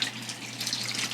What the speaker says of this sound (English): we're just gonna add water to cover it